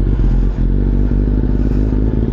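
A Yamaha MT-09 motorcycle engine idles while warming up on a cold start, a loud, steady, close rumble with a continuous low throb and slight mechanical clatter throughout.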